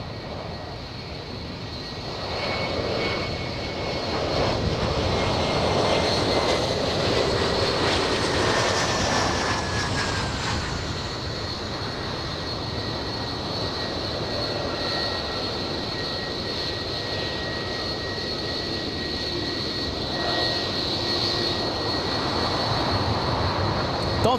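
Jet aircraft engines roar at LAX airport as a CRJ holds short and operations resume, a sustained loud rumble with a whining high tone rising and fading over about twenty-five seconds, heard from a distance outdoors.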